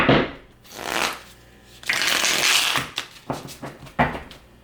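Close-up shuffling of a deck of cards: several riffle bursts with rustling and quick flicks, no talking.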